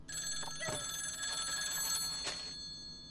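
A telephone bell ringing continuously, bright and metallic, fairly close, running for a few seconds before cutting off.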